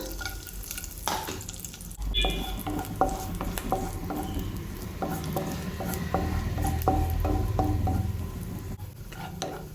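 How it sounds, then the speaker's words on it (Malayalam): Steady sizzling and crackling of cashews frying in ghee, with occasional stirring scrapes and clinks of a spoon against the pan, fairly close. "ഇതിലേക്ക് ഒരു പിടി കശുവണ്ടി പരിപ്പ് ഇട്ട് കൊടുക്കാം"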